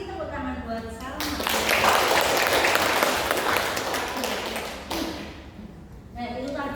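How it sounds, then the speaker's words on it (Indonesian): Audience applauding for Salma at an Indonesian school performance event, a dense burst of clapping that swells for a few seconds then fades, with a speaker's voice before and after. "tepuk tangan buat Salma"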